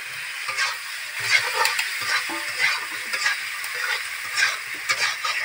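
Ginger paste, chili paste and previously fried potatoes going into a hot frying pan, a soft crackling sizzle with repeated stirring scrapes at an uneven rhythm, up close and free of speech.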